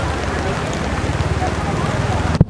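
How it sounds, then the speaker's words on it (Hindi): Steady rain falling outdoors in Thane during a Durga Puja outing, a dense continuous patter close by, with a sharp knock at the end. "बारिश शुरू हो गया"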